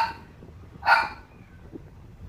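A single short dog bark rings out indoors, fairly close and sharp, followed by quiet room noise.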